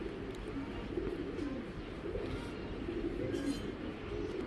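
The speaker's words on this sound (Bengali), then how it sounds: "মানে এর চাইতে সুন্দর কবুতর আমি দিতে পারবো না ভাই" Tournament racing pigeons coo in low, throaty, repeated rolls, soft and close, with a faint background hum.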